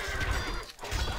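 A horse in the medieval strategy game Stronghold Crusader gives a loud, close whinny, followed by clip-clop hooves and battle clatter.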